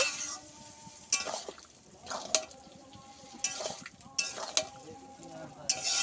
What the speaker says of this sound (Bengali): আবারও সব কিছু একসঙ্গে একটু কষিয়ে নেব।